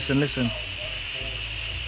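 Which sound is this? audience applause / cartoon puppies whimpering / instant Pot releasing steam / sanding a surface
instant Pot releasing steam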